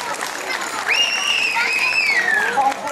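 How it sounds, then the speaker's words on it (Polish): Crowd applause at an outdoor family integration festival in Muszyna, greeting competition winners: a steady wash of clapping for about three seconds, with a bright whistle-like tone rising and gliding above it. "Pięknie proszę bardzo Państwa o brawa dla zwycięzców."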